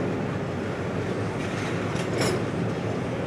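CSX freight train rolling past on the Portsmouth Subdivision, a steady broadband rumble of rail cars with faint wheel clatter and a brief squeal near the end, heard without talk.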